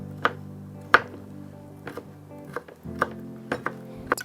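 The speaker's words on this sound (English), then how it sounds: "Chop as fine as possible." A knife chops fresh ginger finely on a cutting board: about nine sharp, close knocks in an uneven rhythm, moderately loud over a steady low hum.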